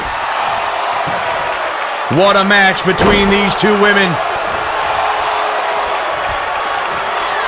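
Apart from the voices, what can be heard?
wrestling arena crowd cheering in WWE 2K22 video game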